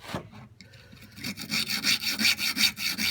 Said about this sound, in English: So now I'm going to take this this hacksaw and I'm going to cut